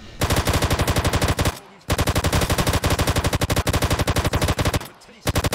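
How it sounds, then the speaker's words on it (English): Loud, rapid automatic gunfire from Grand Theft Auto San Andreas Definitive Edition on PC rattles in long sustained bursts, broken by two brief pauses before the shooting resumes. "Oh, wait, I can still shoot forward, right?"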